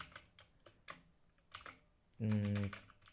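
Code is typed on a computer keyboard, a close run of quick, irregular key clicks with a short voiced hum breaking in partway through.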